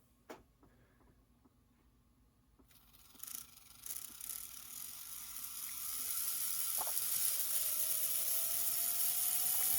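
The small electric motor and meshing gears of an HO scale steam locomotive kit run on a workbench. They give a faint ticking, ratcheting whir that builds into a steady mechanical hum with a slowly rising whine.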